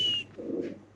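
A female Spanish racer-type blazer pigeon at a pigeon farm gives a single brief, low, soft coo, heard close after a short high tone fades.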